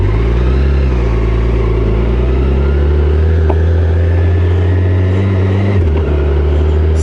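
BMW K1600GT 2022 motorcycle, six-cylinder touring bike, pulling away in first gear with a steady, close engine drone that rises in pitch as it accelerates, then dips briefly near the end as it shifts.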